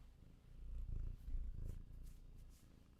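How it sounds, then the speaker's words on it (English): A pet cat purrs close up, a steady low rumbling purr pulsing in soft, rhythmic waves for a few seconds with no talking. "My cat is here."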